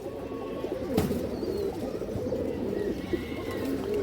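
A pigeon coos in soft, repeated low phrases, close by and steady, with a faint ambient hum and a brief click partway through.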